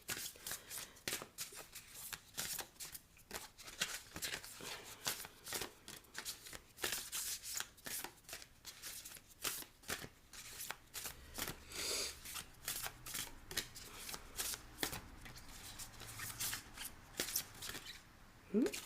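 A tarot or oracle card deck is shuffled in a steady run of crisp, papery riffles and taps, close and fairly loud throughout, with soft speech-like murmurs faintly behind.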